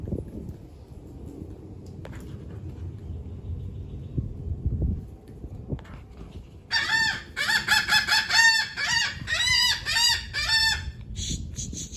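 Chickens cluck softly before a rooster breaks in with several loud, close crowing calls in the second half, set over a low background rumble with no talking.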